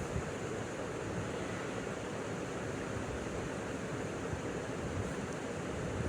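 Pieces of Rui fish go one by one into hot oil, giving a steady, dense hiss of frying that holds at an even level throughout, with no voices.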